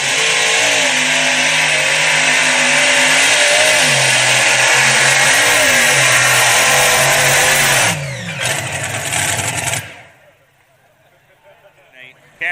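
A supercharged triple-engine big block Chevrolet tractor pull machine roars loudly and steadily at full throttle with rising pitch shifts, then cuts off abruptly near the end, leaving near silence.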